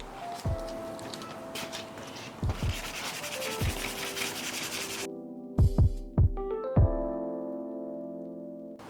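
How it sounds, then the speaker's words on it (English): Sandpaper rasps against a plastic car headlight lens during restoration with rough red-grit paper, a steady close scratching broken by a few heavier thumps, with a second stretch of sharper, more distinct strokes near the end. "I'm gonna sand it down, and then I'm gonna be using the red sandpaper, which is a little bit rougher"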